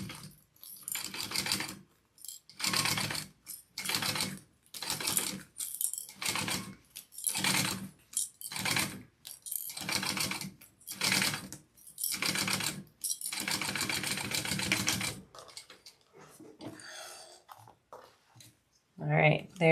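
A sewing machine bastes a panel onto a fabric shoulder bag, running in about a dozen short, loud stitching bursts separated by brief pauses.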